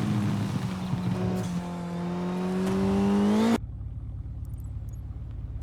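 A rally car engine in WRC Generations, a Lancia, revs and climbs steadily with a loud droning tone that rises in pitch before cutting off abruptly, leaving a low rumble behind.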